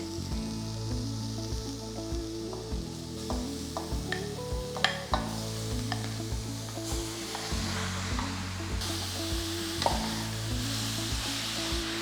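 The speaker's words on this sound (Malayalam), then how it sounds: "ആ മസാല എല്ലാം ബീഫെ നന്നായിട്ട് കോട്ടഡ് ആകുന്ന വരെ നന്നായിട്ട് കമ്പൈൻ ചെയ്യുക." Beef pieces are stirred through a masala in a hot pan, with a continuous sizzle and repeated scraping strokes. A steady low hum runs underneath and no one speaks.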